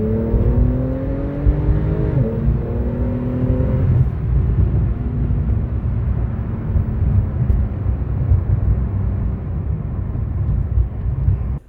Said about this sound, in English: Now this corner coming up is one of the areas where I can usually do a power slide, a low-speed power slide on my way to work.